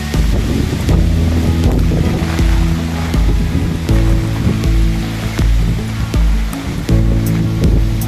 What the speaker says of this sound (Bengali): দেখেন বৃষ্টির কি অবস্থা বাতাস ও বাতাস